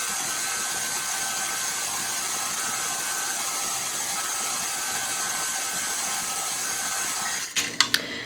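An electric mixer whirs steadily as it beats eggs and vanilla into spiced cupcake batter, a constant loud hum that ends with a few clunks and knocks near the finish.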